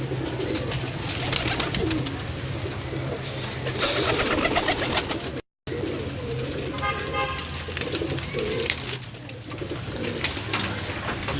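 A rare, old teddy pigeon coos in soft repeated calls, close by, over a steady background hum, with a brief cut to silence midway.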